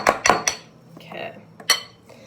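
A utensil clinks and scrapes against a bowl while cookie dough is mixed, with several sharp knocks close by and quieter scraping between them.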